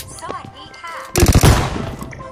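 Shotgun gunfire in a video game arrives as a loud cluster of booming blasts lasting about half a second, set against softer game sounds, with a voice talking nearby.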